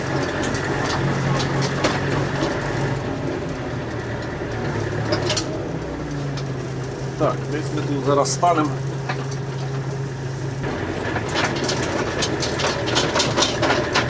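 A Scout 404C tractor engine drones steadily while the cab rattles and clatters over bumpy, potholed ground, with someone talking over the noise.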